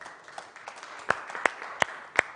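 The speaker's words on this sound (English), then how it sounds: "Nice round of applause to Stan" An audience claps in a few sharp, scattered bursts at a stage show, thin and uneven rather than a full ovation, with faint background murmur between the claps.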